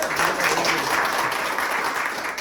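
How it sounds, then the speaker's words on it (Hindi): Students in a mobile repair training class give a second teacher a round of applause, a full, continuous burst of many hands clapping close by, holding steady to the end. "और एक बार मिलन सर के ताली दो भाई"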